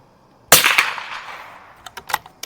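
One loud, sharp rifle gunshot cracks out and echoes away, followed a moment later by a few fainter pops.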